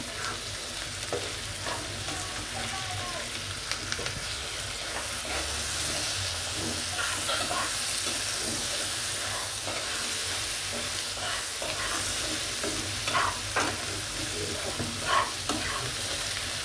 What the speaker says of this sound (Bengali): পেঁয়াজের সাথে আমি টমাটোটাও সুন্দর করে ভেজে নেব নরম হবে খেতে ভালো লাগবে